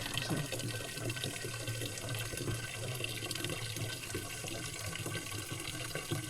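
Water splashes steadily in a forest stream as someone bathes, a constant close rushing and trickling with no talk over it.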